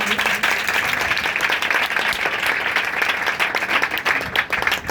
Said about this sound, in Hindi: आए खुदा के जलाल के लिए हम जोरदार तालियां बजा देंगे